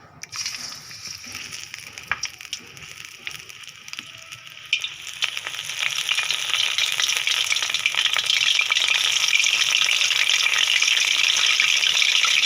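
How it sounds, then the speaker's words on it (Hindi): Chicken fritters (pakora) frying in hot oil, a steady crackling sizzle that swells louder and denser about halfway through and keeps bubbling to the end, close by with no talking. "सारे जो पीसीस थे उनको आप लोगों ने फ्राई कर लेना है"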